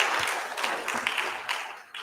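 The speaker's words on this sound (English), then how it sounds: "Can we give the CEO another round of applause?" Audience applause for a CEO at the opening of a skills event, a short burst of dense clapping at moderate level with a faint voice mixed in.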